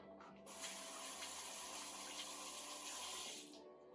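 Tap water runs steadily into a kitchen sink while fingers are rinsed off during chocolate bonbon cake baking, a constant hiss lasting about three seconds before cutting off.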